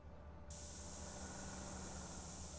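In Grand Theft Auto: San Andreas, a spray can hisses in a steady, continuous rush for a tag, starting abruptly after a short quieter moment and holding level to the end.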